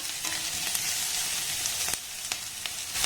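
Onion and green chilli stir-fry in a pan with a strong, steady crackling sizzle and a few sharp clicks from the stirring utensil, with no one speaking.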